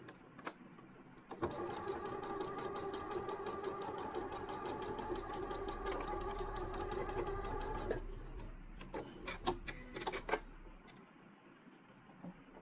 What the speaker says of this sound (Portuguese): agora eu vou passar uma costura aqui, ó. Aqui o tecido tá bem grosso